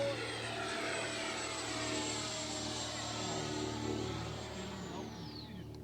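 An FMS 80mm F-86 Sabre EDF RC jet flies at full power, a steady high-pitched ducted-fan whine that holds for several seconds and then drops in pitch as it passes. The jet is faint and distant, heard alone.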